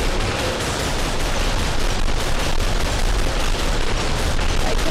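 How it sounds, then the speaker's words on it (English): Rapid, unbroken gunfire from a character shooting nonstop in a small Ludum Dare indie video game, a loud, dense, noisy rattle that runs the whole time without pause or voices. "This dude just keeps on shooting forward, and it's very, very, very noisy."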